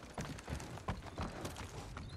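Horse hooves thudding in a steady galloping rhythm in the Ghost of Tsushima video game, fairly quiet and close, with no talking.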